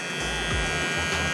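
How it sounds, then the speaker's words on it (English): Electric hair clippers run as a steady, close buzzing hum while a man cuts a fade on his own hair. "Get my clipper."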